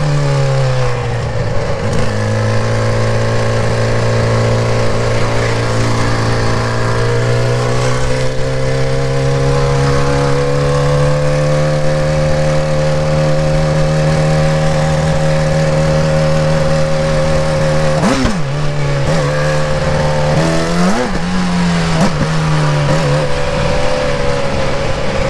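Suzuki GSX-R 600 motorcycle with a slipping clutch, its engine droning steadily and loud with a sustained rev that dips and swells briefly near the end, no talking.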